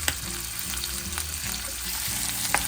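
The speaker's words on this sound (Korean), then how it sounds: "자, 이렇게 계속 볶다 보면 색이 노릇노릇해지는데요" Bacon and onion frying in olive oil over medium heat in a pan, making a steady, close sizzle with occasional scraping stir strokes throughout, no voices.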